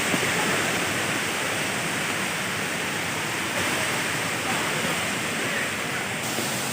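The Harishankar waterfall near a temple in Balangir gives a steady, loud, broadband rush of falling water that stays constant throughout, with no clear speech.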